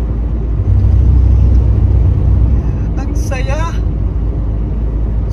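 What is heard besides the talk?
newly bought car driving, heard from inside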